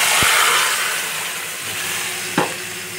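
Boiled vegetables drop into a pan of hot oil with a curry-leaf tempering, giving a steady close sizzle with two sharp knocks of a utensil against the pan.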